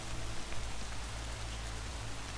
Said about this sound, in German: das fixen die mit dem blöden Regensound im Ladebildschirm